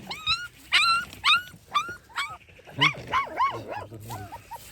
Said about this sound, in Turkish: Sen havlamayı da mı biliyorsun ya?